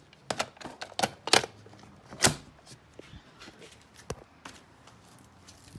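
An 8-track tape cartridge is shoved into an early 1970s SoundDesign model 6438 AM/FM tuner stereo, a close series of plastic clicks and clunks followed by softer scattered taps.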